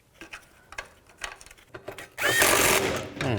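A power tool tightening nuts on a 2004-08 Nissan Maxima rear upper control arm, heard as a loud whirring, ratcheting burst up close after some faint clicks and handling noises.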